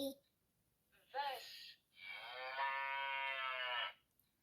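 A children's sound book plays a recorded cow moo, a short low call followed by a longer drawn-out bellow, clear and close in a quiet room.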